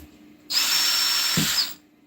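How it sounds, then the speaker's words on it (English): A power drill drives a wood screw while a craft table is being built, giving one loud, steady whirring burst of about a second with a low thunk near the end as the screw seats. "I'm going to drill that one and use it for that"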